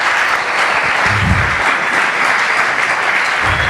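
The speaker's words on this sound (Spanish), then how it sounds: "Un aplauso para Miguel." A congregation at a church sermon applauds for Miguel, a steady wash of clapping filling the room throughout, with a faint low voice murmuring briefly beneath it.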